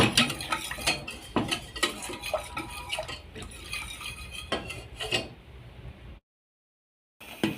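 A spoon scrapes and taps rhythmically against a pot while raw kitchen chocolate melts over heat, the close metallic stirring continuing steadily before a brief silence.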